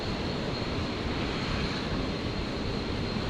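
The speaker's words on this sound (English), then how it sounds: "the Malaysian Airlines 330-200s heading straight over the top of us right now" A Malaysia Airlines Airbus A330-200 cruises at 39,000 feet over Brisbane, giving a steady, broad jet roar overhead that stays even and distant for the whole stretch.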